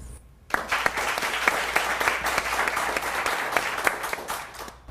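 Studio audience applause breaks out after a short quiet moment, a dense, even wash of clapping that stays strong throughout with no talking over it.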